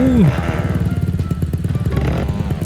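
A motorcycle engine in the Roblox TT Racing game, a Honda Dream Super Cub, runs loud and close with a steady rapid buzzing putter and slight rises in pitch, opening with a short descending whine.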